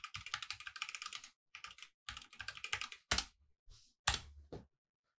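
Someone types a password on a computer keyboard, with quick bursts of close key clicks separated by short pauses and a few single louder presses near the end.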